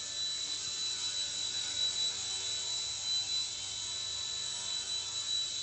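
An XK K127 RC helicopter in flight gives off a steady high-pitched rotor and motor whine with a sharp constant tone, fairly close and even, with slight swells in level.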